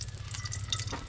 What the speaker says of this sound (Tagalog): atin pong piprituhin po muna itlog